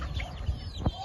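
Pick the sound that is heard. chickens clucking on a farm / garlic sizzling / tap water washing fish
chickens clucking on a farm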